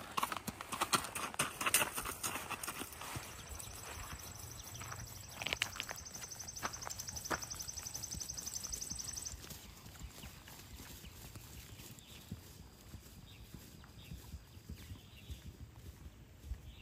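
A horse cantering outdoors, hooves beating a steady three-beat clip-clop rhythm close by throughout, with occasional snorts and light ambient noise.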